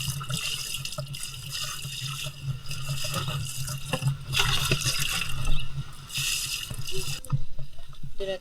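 Water runs steadily from a shower at a beach resort pool area, used for rinsing sand off feet. The hiss and splash continue unbroken at close range, with no voices.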